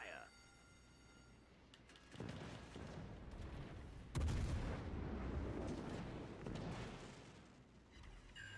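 Heavy naval gun salvos from a warship in World of Warships, booming in broad rumbling bursts near two and four seconds and rolling on beneath an ongoing voice.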